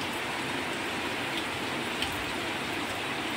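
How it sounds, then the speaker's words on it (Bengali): Heavy rain pouring down steadily in the morning, a dense, continuous wash of drops on surfaces that stays loud and even throughout, with no talking. "সকাল থেকেই প্রচুর বৃষ্টি হচ্ছে, যাকে বলে একদম মুসুল ধারায় বৃষ্টি।"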